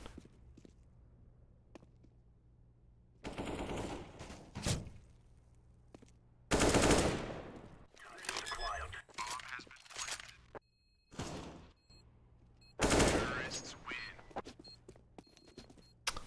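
Submachine gun fire in the video game Counter-Strike: Global Offensive, with several loud bursts of rapid automatic shots separated by quieter stretches, mixed with footsteps and other game sounds.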